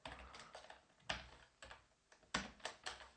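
Close, quiet keystrokes on a computer keyboard come in short irregular bursts with brief pauses between them while code is entered.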